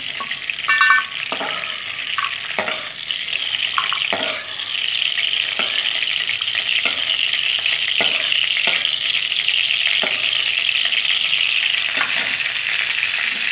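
Eggplant and rice mixture sizzles steadily in a hot pan, with occasional spatula scrapes and taps as it is stirred, close and continuous.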